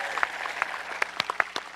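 Light, scattered applause from a modest crowd at a high school graduation ceremony, individual claps standing out unevenly against a quiet room.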